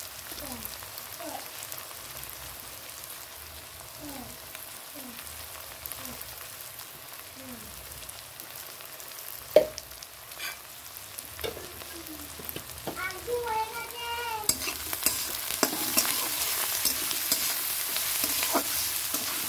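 Onion sprinkled with sugar and salt fries in a pan while a spoon stirs it, giving a soft, steady sizzle with scattered scraping clicks, growing brighter and louder toward the end; no one speaks.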